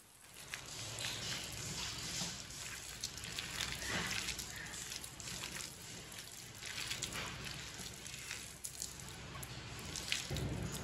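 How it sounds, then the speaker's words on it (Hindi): Water trickles gradually into leftover rice batter as it is stirred, giving quiet, close dripping and wet squishing sounds that continue steadily without talk. "अब इसमें थोड़ा सा पानी डालेंगे, ज्यादा नहीं डालना, थोड़ा थोड़ा करके डालना है।"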